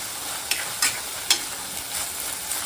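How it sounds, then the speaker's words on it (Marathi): Spice masala being stir-fried with tomatoes in a pan sizzles steadily, with a few sharp scraping clicks of a spoon stirring through the mixture, close and alone. "हा मसाला चांगला परतवायचा"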